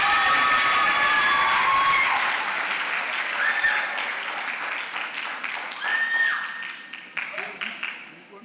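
Loud, dense clapping from a crowd at an award ceremony that gradually thins out, with scattered claps lingering near the end.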